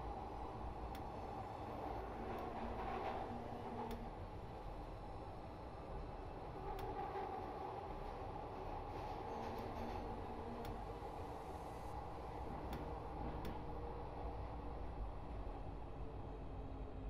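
Glasgow Subway train in Train Simulator Classic rolling along steadily, a continuous low rumble and hum of the running train with faint periodic clicks, heard alone at a moderate level.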